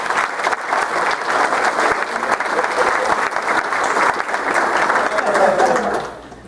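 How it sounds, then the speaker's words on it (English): An audience at a club awards ceremony for young children claps loudly for several seconds, a dense, uneven burst of applause with some crowd noise mixed in that tapers off at the end. "So clap for these guys."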